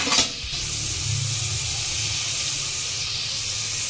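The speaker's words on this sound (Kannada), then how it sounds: "ಚಿಲ್ಲಿನೂ ಅದ್ರ ಜೊತೆಗೆ ಹಾಕ್ಕೊಡಿ, ಫ್ರೈ ಮಾಡಿ." Tomatoes and chili frying in a pan, a steady close sizzle and hiss with a brief sharper burst at the start, no talk.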